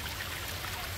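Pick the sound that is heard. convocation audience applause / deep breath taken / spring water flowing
spring water flowing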